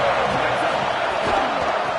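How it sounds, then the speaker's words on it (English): A stadium crowd roars at an NCAA football game, a dense sustained wash of cheering heard from a distance, with a commentator talking over it. "This crowd bringing an ear-splitting welcome to their visitors."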